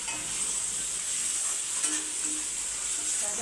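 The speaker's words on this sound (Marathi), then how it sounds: "त्यासाठी कांदा गोल्डन ब्राऊन करायचा आहे थोडा" Sliced onion sizzles in hot oil in a kadhai as it browns toward golden, a steady close bright hiss with faint stirring scrapes and no talking.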